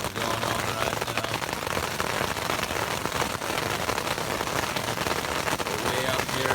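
A hailstorm at a high mountain camp at 11,800 feet in Colorado, a steady loud dense pelting and rattling of hailstones on surfaces, continuous throughout with no pauses.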